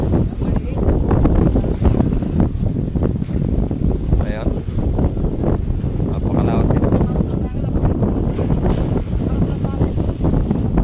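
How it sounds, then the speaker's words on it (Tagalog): Rough whitecapped sea and strong wind roar around a motor fishing boat, a loud, continuous rushing wash close to the microphone, with voices talking intermittently over it. "At napakalakas ng dagat, kung nakikita nyo, namumuti."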